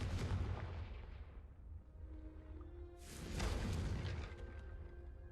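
Two booming blasts from the Confringo spell in Hogwarts Legacy, heavy and rumbling, a couple of seconds apart, with a faint ringing tone between them over continuous game ambience.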